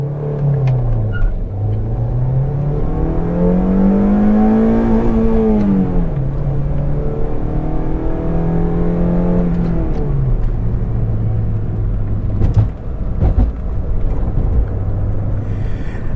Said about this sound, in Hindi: The engine man, the way it revs, the way it delivers power till 4000 RPM